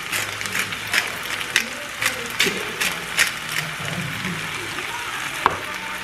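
Keto al pastor meat stirred in a pan over medium heat, giving a steady low sizzle with repeated scraping clicks from the utensil at an irregular rhythm, close and fairly clear.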